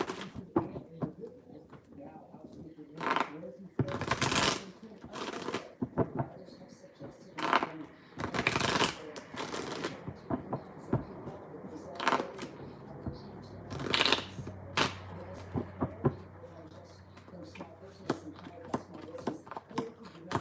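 Tarot cards shuffled in bursts of crisp riffling and slapping, with quieter handling between, under intermittent soft talk.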